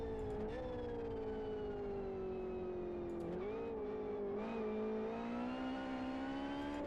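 A racing car engine in the sim game Live for Speed drones steadily at high revs, its pitch dipping and rising briefly through gear changes before settling again; the engine is fairly quiet and heard alone.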